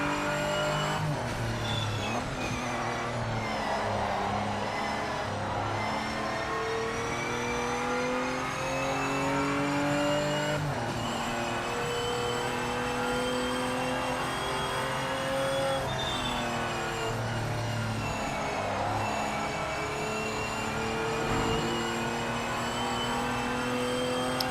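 Race car engines in the video game Project Motor Racing whine and rev continuously, with overlapping cars shifting gears and pitches rising and dropping throughout a close competitive race, loud and unbroken.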